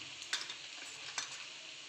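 Quiet frying of onions in a pan as spices are added, a low sizzle with two soft stirring scrapes.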